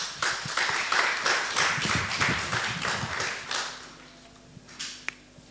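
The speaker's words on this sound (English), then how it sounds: "So kindly welcome him with a round of applause." Forum audience claps to welcome a presenter at a refugee labour-market event, a burst of scattered nearby hand claps that thins out and dies away after a few seconds, with a faint hum and a lone clap near the end.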